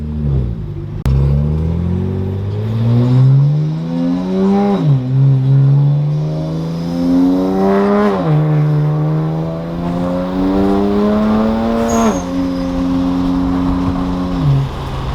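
BMW E92 335i driving, its engine droning loud and close as it pulls through rising revs, drops back at shifts and climbs again, steady throughout with no talk.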